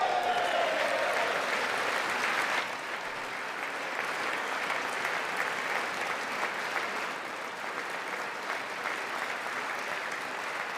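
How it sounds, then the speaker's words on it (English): Long, loud applause fills a large chamber during a presidential State of the Union address, a dense, continuous wash of many hands that dips slightly after a couple of seconds and then carries on unbroken. "you got Democrats involved with that clap"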